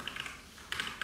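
Soft, quick keystrokes on a computer keyboard come in two short bursts with a pause between, quiet and close, as a title is typed into a new post.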